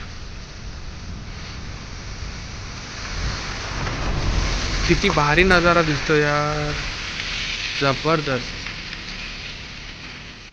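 Monsoon rain falls steadily at Panshet Dam near Pune as a broad, even wash of hiss that swells slightly midway, with someone speaking over it in short bursts.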